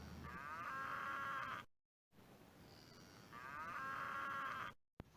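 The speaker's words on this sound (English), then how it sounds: "Cow sound moo." A cow moos twice in long, loud, drawn-out calls, separated by a short silence, with no other voices or sounds around it.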